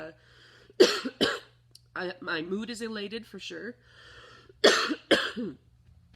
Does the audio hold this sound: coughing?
yes